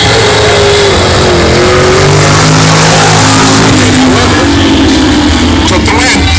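A 1969 Camaro with original paint and a SoCal Roadster drag race at a drag strip, engines roaring loudly and revving up as they launch, with an announcer talking over the noise.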